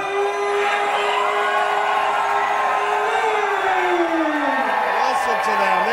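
An MMA crowd at PRO FC 8 cheers for the Taiwanese fighter Rocky Lee during ring introductions. The crowd noise stays constant beneath a prominent announcer's voice, and a long rising and falling tone runs through it.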